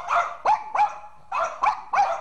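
A house dog barks six times in quick, sharp bursts, close and clear, with brief pauses between the barks.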